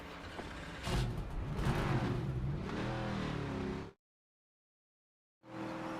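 A NASCAR race car engine in the NASCAR 25 video game fires up with a sudden burst and settles into a loud, steady idling rumble, then cuts to silence before resuming briefly.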